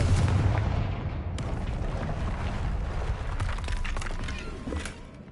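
A Confringo fire spell in Hogwarts Legacy bursts into a loud, booming explosion that rumbles and crackles for several seconds and slowly fades.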